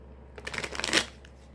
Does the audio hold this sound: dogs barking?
no